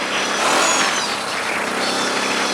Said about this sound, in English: This thing still engine brakes really hard like a brute force does.